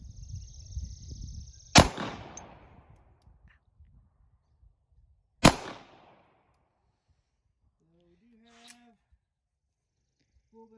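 Two sharp, loud pistol shots from a Dan Wesson Kodiak 10mm at 7 yards ring out several seconds apart, each with a short decaying echo, preceded by faint low talk and followed by quiet with brief faint tones.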